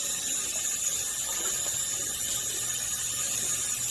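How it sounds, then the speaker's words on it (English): Tap water runs steadily through a strainer of quinoa being rinsed, a continuous close hiss and splash with no break for the whole stretch. "we just want to run it over the water until it comes out clear"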